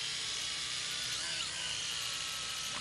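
Agricultural drone flying over a farm in Cameroon, a steady high-pitched rotor whine that fills the clip without pause and stays at an even level, with no voices over it.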